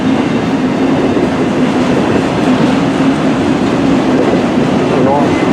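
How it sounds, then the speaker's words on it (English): A CN M384 freight train rolls past in Port Huron, Michigan, a steady loud rumble of rail cars that fills the whole clip, with voices talking faintly underneath. "Yep, CN M384 northbound train, I can tell."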